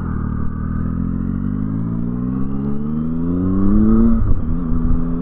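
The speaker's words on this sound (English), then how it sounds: "and the revs when they climb, the front end gets really light, and it accelerates like a bat out of hell." A Triumph Tiger motorcycle engine, the same engine as the Speed Triple but detuned for torque, revs up close and loud in a steady rising drone that peaks and roughens near the end, with no talk.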